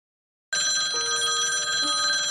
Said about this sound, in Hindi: पुलिस स्टेशन में सुबह सुबह फोन की घंटी बजने लगी